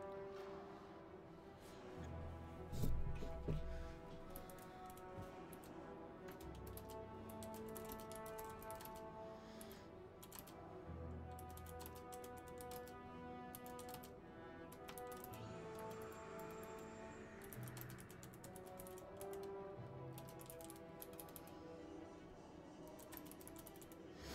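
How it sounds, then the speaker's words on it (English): Someone types on a computer keyboard in quick, irregular bursts of light clicks, faint and close, over a soft hum of background tones. "Sorry, I'm typing."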